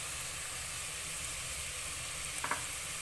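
Masala with a pinch of salt sautéing in a pan gives a steady, low-level sizzle throughout, with a few brief stirring scrapes near the end and no talking.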